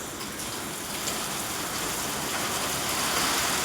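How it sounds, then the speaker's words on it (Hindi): Rain starts to fall in Kalar Kheda village, making a dense, steady patter and hiss of drops on surfaces that builds slightly, close and uninterrupted, with no voices. "अब स्टार्ट हुई है बारिश।"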